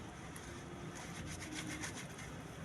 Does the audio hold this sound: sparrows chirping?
no